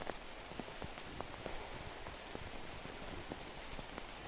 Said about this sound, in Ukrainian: Дощ, валить, теплий дощ, валить по стресі